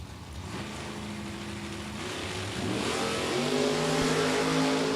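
A Mustang drag race car at a drag racing event revs hard, its engine drone steady and loud, climbing in pitch and intensity with rising harmonic tones as it builds.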